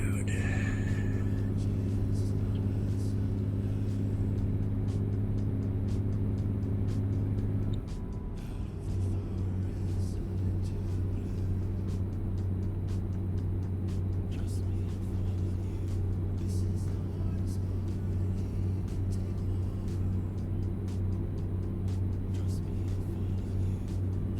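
A truck engine in a video game gives a steady low hum with a tonal drone that shifts partway through and then runs on evenly, with no talk over it.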